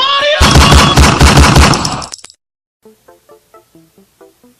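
A loud, close burst of rapid gunshots rattles for about two seconds and cuts off abruptly, then quieter rhythmic thumps follow.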